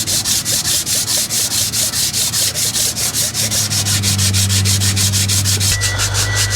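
Metal scraper drawn in rapid, regular back-and-forth strokes across an engine surface to clear old gasket remnants and crud during timing chain and intake work on a shop truck, loud and close, with a steady low hum joining partway through.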